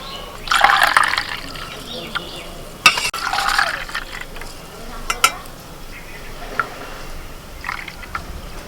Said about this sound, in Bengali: এবার একে একে আমি মোল্ডের মধ্যে ভরে দিচ্ছি